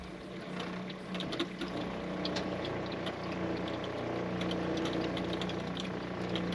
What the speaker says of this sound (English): send the siphon to tank via pump.